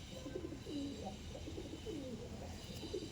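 Andhra pigeons coo softly in a series of low, rolling calls, close but quiet, over a faint background hiss.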